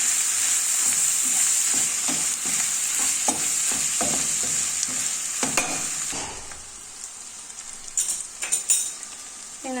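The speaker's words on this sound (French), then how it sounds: "je vais mélanger le tout" A kefta and pepper filling mixture stirred in a hot pan with a utensil, a steady loud sizzle under repeated scraping strokes and light clinks that grow more distinct near the end.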